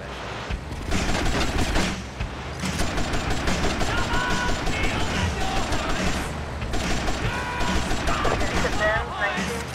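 Dense gunfire in the video game GTA: Vice City, rapid continuous bursts of shots and booms filling the whole stretch, loud and close with only brief gaps, rock music and game noise mixed underneath.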